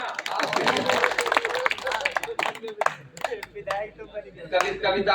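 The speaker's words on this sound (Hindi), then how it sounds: "तालियां।" Audience clapping at a Hindi poetry recital, bursts of hand claps rising and falling in uneven waves with crowd murmur, fairly close and loud.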